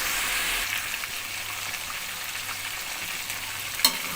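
Chicken frying in a karahi gives a steady hiss and crackle at moderate loudness, with faint stirring movement and one sharp clink near the end. No one talks.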